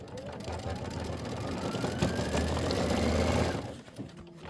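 Kimberbell embroidery machine stitching out a quilt block, a steady rapid mechanical hum and needle rattle that holds for several seconds, then winds down and stops.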